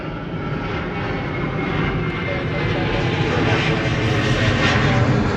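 Jet airliner taking off from a runway at LAX in Los Angeles, a loud, steady broadband engine roar that swells slightly and holds throughout, close and continuous, with faint voices beneath.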